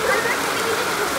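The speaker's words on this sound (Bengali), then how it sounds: "অঝরে বৃষ্টি" Heavy rain pouring down outdoors near a metro station, a dense, steady roar of falling water with no pauses.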